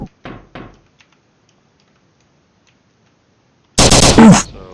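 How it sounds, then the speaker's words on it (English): Three-round burst rifle firing in a video game, a single loud, sharp burst of shots near the end after a couple of faint earlier clicks and a long quiet gap. "So this is the 3 burst rifle."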